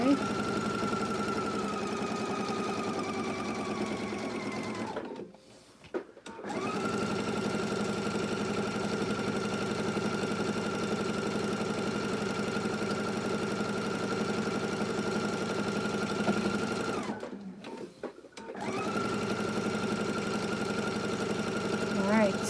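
A sewing machine runs steadily, stitching through a quilt-as-you-go log cabin block built from 2.5-inch strips, with two brief pauses. The motor hum is close and continuous, and a voice talks over it.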